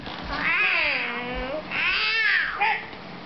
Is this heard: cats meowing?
yes